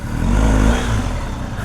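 A new BMW R1250 GS motorcycle's boxer engine runs close by with a steady, loud low rumble, rising slightly then holding even throughout.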